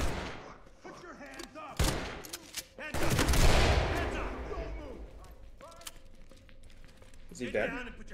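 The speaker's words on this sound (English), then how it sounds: "Just doing flashbangs, so he shouldn't be dead." Flashbangs going off in the Ready or Not tactical shooter game, several sharp loud bangs with one long ringing blast in the middle, heard under ongoing talk.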